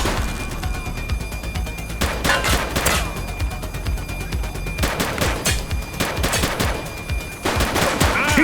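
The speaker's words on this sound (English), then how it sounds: "He's shooting!" Rapid bursts of gunfire crackle in The Precinct video game, with repeated volleys of shots over a loud, busy background that runs throughout.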